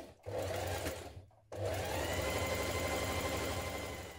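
A sewing machine back tacks at the start of a blouse seam, with short stop-and-go bursts followed by a steady, close run of stitching.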